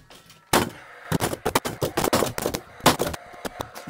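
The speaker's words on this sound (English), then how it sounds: "You don't have to nail it if you've got a screw gun." A screw gun drives screws into a garden room roof, giving a rapid series of sharp, loud bursts of whirring and clattering in quick irregular succession, with no talking.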